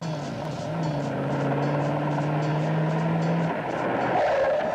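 A car speeding in a film scene, the engine roaring steadily while tires squeal in a long sustained skid, close and loud with a surge near the end.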